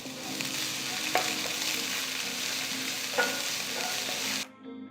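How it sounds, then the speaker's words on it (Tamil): Finely chopped onion frying in hot oil with cumin in a kadai, a steady loud sizzle with a couple of stirring scrapes, cut off abruptly near the end. "பொடிசா நறுக்குன ஒரு வெங்காயம் சேருங்க."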